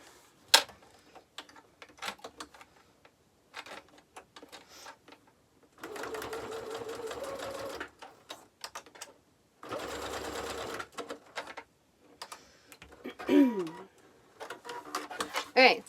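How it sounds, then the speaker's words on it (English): Sewing machine stitching down the strap of a belt bag after it is threaded through a swivel hook, running in two steady bursts of about two seconds each, with small clicks and handling noises and a voice speaking in between. "we're gonna stitch this down."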